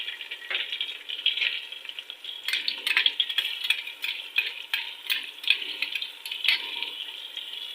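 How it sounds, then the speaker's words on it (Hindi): Chicken fries in a pan with garlic ginger paste, a steady crackling sizzle with stirring rattles and scrapes of a spoon against the pan, loud and close with no talk. "एक से 2 मिनट तक हम फ्राई करेंगे"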